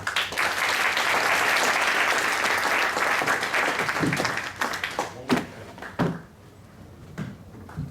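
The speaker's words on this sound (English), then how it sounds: "So we'll give them a round of applause." Audience at an awards ceremony applauding with loud sustained clapping that thins out into a few scattered claps and quiet room noise.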